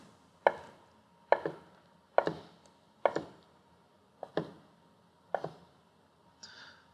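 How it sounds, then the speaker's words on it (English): A knife slices through fresh mozzarella onto a cutting board in seven evenly spaced thunks, each a crisp close knock with a short tail, alone and without talk. "We'll just cut it into slices"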